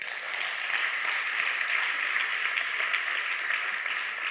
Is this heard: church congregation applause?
yes